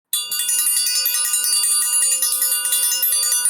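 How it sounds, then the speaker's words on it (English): A bell rings rapidly and continuously, bright metallic strokes repeating in a steady fast rhythm, loud and close. "we're ringing the bell for that"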